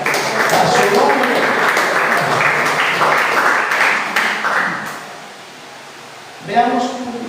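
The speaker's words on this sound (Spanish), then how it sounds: "Démosle un aplauso al Señor." A church congregation at a Bible study on the Holy Spirit applauds in a sustained, dense wash of clapping for about five seconds, fading out before a voice briefly speaks.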